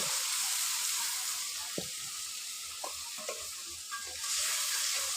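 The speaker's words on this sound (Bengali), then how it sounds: "এগুলো ভালো করে কষিয়ে নেব" Turmeric, salt and chili paste mixed in water sizzle in hot oil with cumin and onion for fish head muri ghonto, a steady frying hiss broken by a few scraping stirs of a spoon, with no talk.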